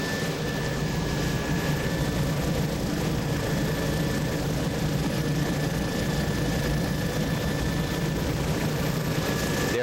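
The cabin of a small survey aircraft cruising at about 400 feet and 70 to 80 knots over the Prince Edward Island coast fills with a loud, constant engine drone and a steady tonal whine, with no voices.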